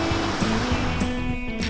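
A 4x4 splashes through a muddy bog hole on an off-road track, a continuous close wash of churning water and mud over a low engine drone.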